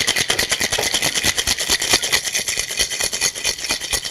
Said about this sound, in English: when I actually do the shaking, the key is back and forth